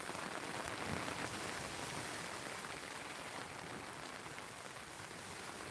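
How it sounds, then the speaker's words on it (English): Rain falls outside a shore-fishing shelter in winter, a soft, even hiss of drops on surfaces that stays constant and faint throughout, with no voices. "it's lovely watching that rain out there"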